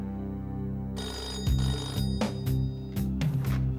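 A telephone rings in repeated short bursts with a steady electronic tone underneath, clear and fairly close, with no voices.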